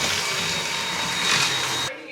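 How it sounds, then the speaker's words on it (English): A vacuum cleaner runs under a bed as a steady, loud whooshing motor drone that holds for about two seconds, then cuts off abruptly near the end. "I'm gonna use that as an excuse to also vacuum under my bed."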